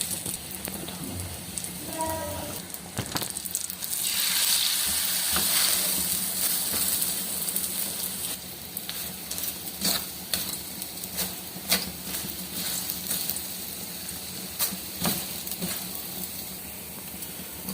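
An omelette paratha fries in ghee on a pan, giving off a soft, continuous crackling sizzle with scattered sharp pops and a few clinks, no voices.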